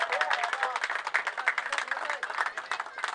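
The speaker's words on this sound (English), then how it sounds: "Round of applause for Rohan" Applause for a runner-up player at a sports prize distribution ceremony, moderately loud with uneven bursts of clapping and voices mixed in throughout.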